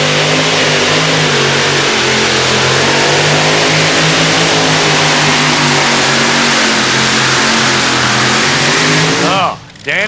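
A Chevrolet 2WD pulling truck roars at full throttle during a tractor pull, a loud sustained engine howl holding steady for seconds before cutting off abruptly near the end.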